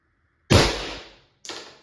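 A Pepperball VKS less-lethal launcher with a repaired firing pin fires two sharp, loud air shots indoors, a strong crack with a ringing tail followed by a second shorter shot about a second later.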